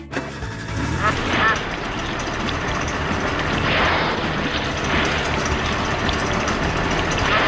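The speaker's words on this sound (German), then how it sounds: "Bianca schmeißt den Motor an" A small boat's motor coughs into life and settles into a steady, rumbling idle, with voices talking over it throughout.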